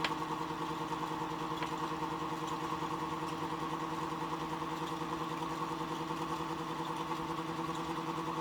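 A Muller motor-generator gives a steady, mid-pitched mechanical hum with an even pulsing rhythm, running faint and alone as its capacitor is shorted.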